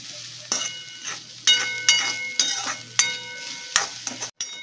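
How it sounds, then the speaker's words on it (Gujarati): Grated coconut being stirred with cashews and almonds in a pan, a soft background sizzle broken by periodic scraping strokes of a spoon, close and fairly quiet. "થોડુંક મોઇસ્ચર વહી જાય ખમણનું ત્યાં સુધી આપણે હલાવવાનું છે."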